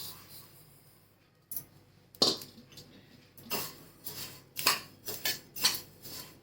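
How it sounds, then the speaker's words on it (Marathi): Sesame seeds tipped into a dry pan for roasting give a scattered rattle and several sharp scraping, clinking bursts of spoon against metal, loud and close, separated by short quiet gaps. "आता तीळ भाजून घेते तीळ टाकते"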